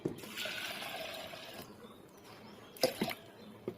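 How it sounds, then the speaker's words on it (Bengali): Water pours and splashes into a pressure cooker holding lentils, a steady rushing flow for over a second that tapers off, followed by a few clanking knocks of the pot, close and fairly quiet with no talking. "জল দিয়ে দেবো"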